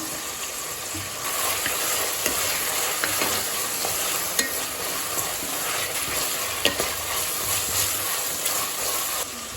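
Cashews frying in oil and being stirred while cooking samba rava (cracked wheat) kichadi, a steady close sizzle with scraping stirs and occasional light clicks throughout, no talking.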